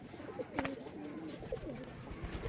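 Red Madras pigeons coo in a loft crowded with many birds, soft repeated throaty coos close by over a low background murmur.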